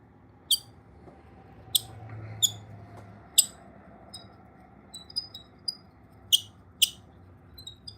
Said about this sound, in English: I need to go put some soap on that bobbin so that way it'll quit squealing like that.